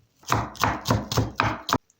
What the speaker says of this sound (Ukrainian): Беру одну цибулинку і нарізаю її маленькими кубиками.